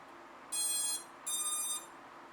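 Two short, high electronic beeps from a newly built FPV drone as its battery is plugged in, spaced about a second apart and fairly soft against quiet background hiss.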